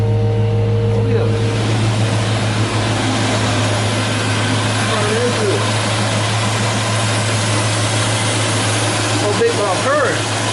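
A car engine idling, a steady low droning hum with a fairly even, slightly low idle after a new wiring harness was installed, close and continuous with someone talking over it.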